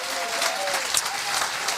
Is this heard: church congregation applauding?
yes